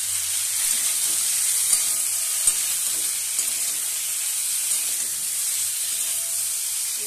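Spices such as ginger, dried chili, cumin, salt, sugar and turmeric frying with unpeeled potatoes in a pan, a steady bright sizzle with a few small clicks and stirring sounds.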